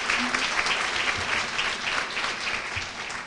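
An audience at an award luncheon applauds warmly, a thick, steady rattle of many hands clapping at a constant level throughout, with no talking over it.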